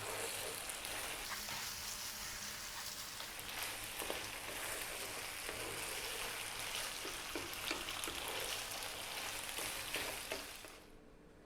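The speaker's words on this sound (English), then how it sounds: "I'm going to be throwing this around in the pan, stirring all the time." A mushroom cream sauce fries in a pan while being stirred, producing a soft, constant sizzling hiss with faint scraping and bubbling throughout, fairly quiet and without talk, fading out at the very end.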